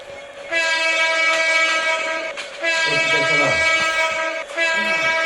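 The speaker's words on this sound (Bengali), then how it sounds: "যেহেতু লোকাল ট্রেন অত গতি দেওয়া যাবে না" A local train on the line toward Pahartali, Bangladesh, held to about 50 km/h, sounds a long sustained horn blast that breaks briefly and resumes, loud and close, over steady rolling rail noise.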